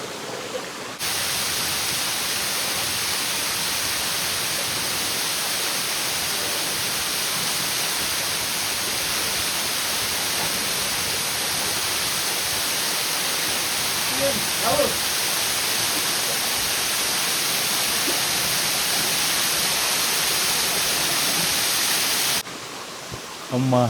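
The Katiki waterfall near Araku pours in a steady, dense rushing roar that holds unbroken for over twenty seconds, close and loud, with faint other sounds barely surfacing.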